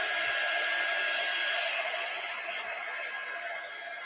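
A heat dryer blows steadily and loudly over a watercolour reverse canvas, a constant close whooshing roar that fades slightly toward the end.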